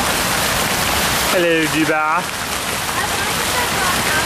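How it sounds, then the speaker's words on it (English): A street fountain on Madrid's Paseo del Prado splashes in a continuous loud, even rush of water, with a brief spoken greeting over it midway. "Paseo del Prado, and we see this fountain."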